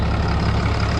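Used Cummins diesel pickup truck idling after a cold start following four or five days of sitting, a steady loud low rumble with fine rapid clatter, close up and alone.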